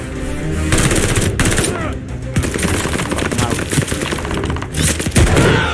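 Rapid automatic gunfire in Call of Duty: Vanguard's Stalingrad mission, loud close bursts of fast repeating shots broken by short pauses, with a player speaking briefly between volleys.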